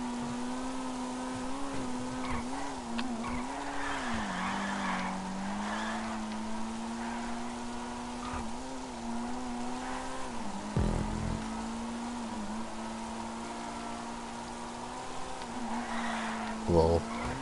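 Vapid Flash GT from GTA 5 in a stunt race, its engine droning steadily with shifting pitch as it accelerates, plus brief tire squeals and bumps, with a voice talking faintly underneath.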